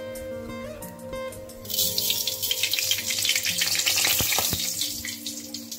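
Mustard seeds hit hot coconut oil in a heated pan: after a quieter start, a loud, dense sizzle bursts up and crackles on steadily to the end.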